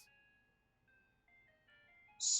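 An ice cream truck in a video game approaches, its jingle a thin run of sustained melodic tones that grows slightly louder, capped by a bright burst near the end, heard alone without talk.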